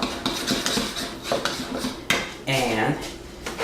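Cookie ingredients stirred together in a bowl, with repeated clinks and scrapes of a utensil against the bowl and a brief voice partway through.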